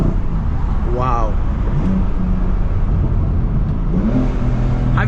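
BMW F80 M3 CS engine droning steadily inside the cabin with a brief rising rev near the start and low exhaust rumble throughout, while people talk over it.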